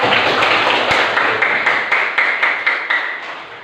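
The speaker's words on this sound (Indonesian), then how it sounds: "Tepuk tangan untuk kalian" Classroom of school students clapping together, a fairly close burst of quick, rhythmic handclaps that settles into a regular beat of distinct claps, fading slightly near the end.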